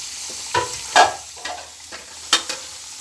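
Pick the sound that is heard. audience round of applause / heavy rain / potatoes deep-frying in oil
potatoes deep-frying in oil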